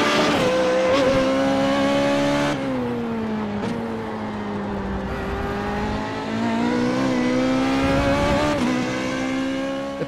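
Race car engine in the iRacing road-racing sim, loud and continuous, its pitch rising and falling through gear changes, with brief tire squeal between shifts.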